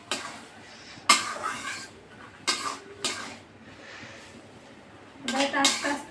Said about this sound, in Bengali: শাকটুকু এবার নেড়ে চেড়ে ফোড়নের সাথে সুন্দর করে